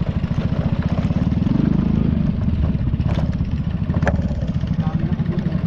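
Motorcycles ride by on a road in Pagbilao, Quezon, heard from a Yamaha Mio i125 scooter ride, making a loud, steady engine drone with passing revs and no speech.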